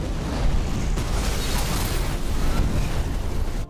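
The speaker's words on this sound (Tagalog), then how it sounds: "Inilagay niya ang van sa reverse at ipinwesto ang baril ni Chris sa gas pedal dahilan para umandar ang van palabas at sumabog sa parking lot." A van explodes in a parking lot, a sustained, roaring blast with heavy low rumble and crackling debris, loud and continuous throughout.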